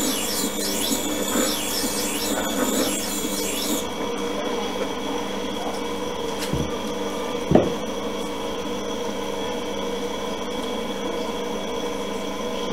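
A hand plane blade is honed on its bevel with quick back-and-forth rubbing strokes for a few seconds, close and steady, then the work goes quiet apart from a single small knock.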